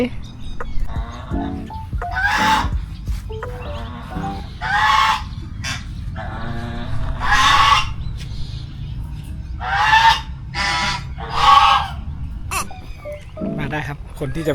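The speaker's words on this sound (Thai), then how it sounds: "น้องเป็นห่านไม่ใช่หงส์" Geese honk repeatedly in bursts at a Ratchaburi campsite by the water, loud and fairly close, with chicken-like clucking calls mixed in and people talking underneath.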